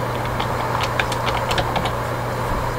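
Quick bursts of computer keyboard typing, a short run of light close key clicks over a low steady hum.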